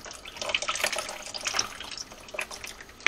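Whey from homemade cheese curds trickles and drips steadily through a strainer, a close, busy liquid patter that continues throughout with no voices.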